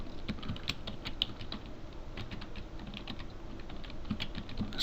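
Typing on a computer keyboard, a steady run of quick clicking keystrokes close up against a quiet background, with no talking.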